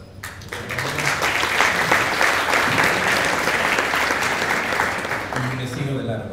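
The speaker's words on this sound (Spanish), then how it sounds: "Un aplauso para..." Audience applause at the closing panel of an international colloquium on masculinities, a dense, sustained round of clapping from a seated crowd lasting several seconds at steady loudness, tapering slightly at the end.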